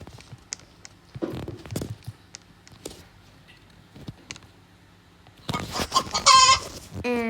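A chicken character in Roblox Brookhaven clucks: a few short, sparse sounds at first, then a loud, dense burst of clucking toward the end.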